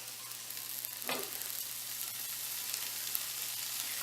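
Ground beef and mushrooms sizzle steadily in a pan with a sprinkle of garlic powder, a continuous close frying hiss broken by one brief stir or scrape near the start.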